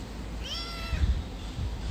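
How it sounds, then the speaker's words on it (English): A pet cat meows once in a drawn-out, rising-and-falling call at moderate distance, with faint background noise and no talk. "she's a very lovely cat"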